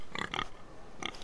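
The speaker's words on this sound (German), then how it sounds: "Oh, ein Schwein." Two quick pig grunts close together, then another grunt after a short pause, with a thin electronic background hum, in a Game of Thrones video game.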